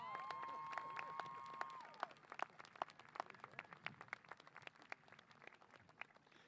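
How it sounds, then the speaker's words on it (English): Scattered, faint clapping from a high school graduation audience for a graduating student, rising into irregular sharp claps after a sustained tone and distant crowd murmur. "Give Winter Mays a big round of applause."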